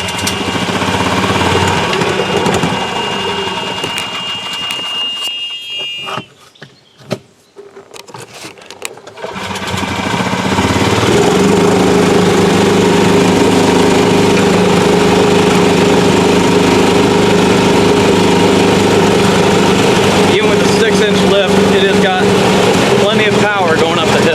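A Club Car DS golf cart fitted with a Predator 420 engine runs loud and steady, dropping briefly, then revving up again into a sustained roar as it moves in reverse, with a person talking over it.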